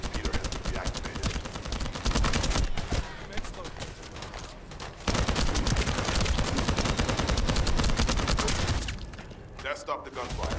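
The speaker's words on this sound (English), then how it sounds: "That stopped the gunfire." Continuous video game gunfire from The First Descendant rattles in dense automatic bursts with heavy impacts, while voices talk over the shooting before it eases off near the end.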